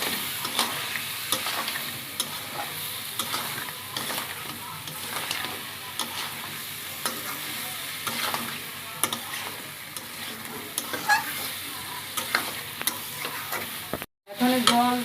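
Fried potatoes stir-fried into a crab curry in a pan: a continuous sizzle broken by rhythmic scraping strokes of a spatula, close and steady, ending with a brief pause and clatter.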